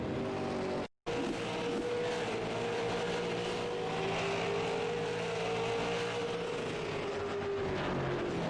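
Super late model race cars at North Wilkesboro in the iRacing sim, engines droning loud and steady with a rising and falling whine as the pack circles. One brief cut drops to silence near the start.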